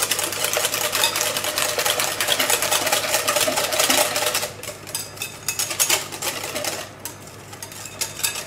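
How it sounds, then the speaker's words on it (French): An electric whisk beats a cheese tart filling of fromage blanc with lemon zest, a steady, close buzzing whir that runs loudly, then drops in intensity and continues more unevenly. "On va fouetter tout ça de façon énergique."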